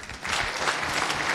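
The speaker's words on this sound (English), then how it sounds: "So a round of applause for Gildas and his talk about AI" Audience applause following an introduction for a talk on AI image search with Go and TensorFlow, a steady dense wash of many hands clapping in a room, rising slightly after a quieter start and holding even throughout.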